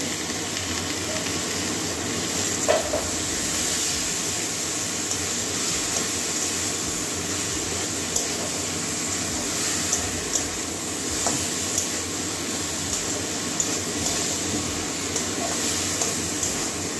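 Soaked fried paneer goes into a hot cooking pan, giving a continuous loud hissing sizzle with a few small pops throughout.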